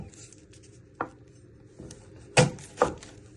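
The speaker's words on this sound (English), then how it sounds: "Then you chop it down the middle." A knife chops through a vegetable on a cutting board with three or four sharp, separate knocks, close and clear, the last two loudest, with quiet pauses between and no talking.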